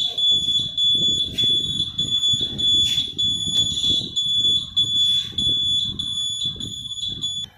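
A 2006 Honda Activa scooter's turn indicator beeps with a steady, high-pitched electronic tone continuously over a low, rumbling engine idle close by.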